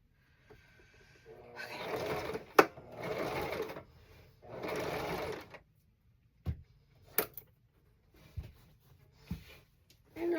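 A home sewing machine runs in three short bursts of rapid stitching along a seam on striped mock-up pants, followed by quieter clicks and handling noises; close and clear with no talking.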